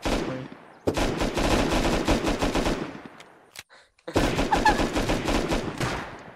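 Rapid automatic gunfire rattles in the video game Unturned: two long, loud bursts of dense shots separated by a brief pause and a single crack, with speech faintly mixed in.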